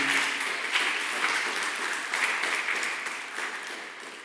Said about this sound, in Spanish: Denle un aplauso al Señor por esto, mi hermano